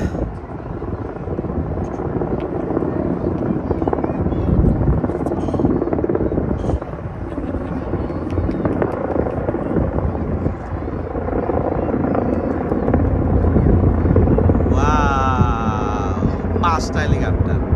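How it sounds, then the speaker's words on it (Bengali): Five helicopters carrying the Saudi national flag fly overhead at the Riyadh air show for Saudi National Day, a loud sustained rotor roar that swells and fades over crowd noise, with someone talking and a brief chirping sound near the end. "সৌদি আরবের ন্যাশনাল ফ্ল্যাগ নিয়ে 5টি হেলিকপ্টার উড়ে যাচ্ছে।"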